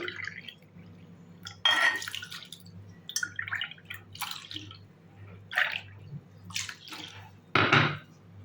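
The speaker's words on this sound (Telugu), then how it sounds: "మూడు కప్పుల నీళ్లు పోసి" Short bursts of water splashing into a bowl of washed urad dal, separated by quieter stretches with faint drips, close up.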